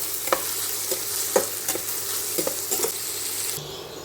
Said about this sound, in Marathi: याच्यात कढीपत्ता जिरे आणि लसूण टाकला आहे कांदा परतून घेते